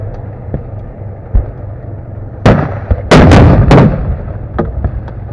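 Combat in Liman between Russian and Ukrainian forces: sharp, loud gunshots and heavier blasts crack out over a low rumbling hum, with a dense cluster of reports near the middle and scattered single shots around it.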